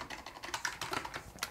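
Quick burst of computer keyboard keystrokes, rapid, light and fairly quiet, while lines of code are deleted.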